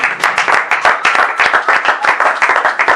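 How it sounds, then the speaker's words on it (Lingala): A church congregation at a prayer of lamentation claps in a quick, steady rhythm, loud and close, with no voices standing out above the hands. "Est-ce qu'on peut acclamer?"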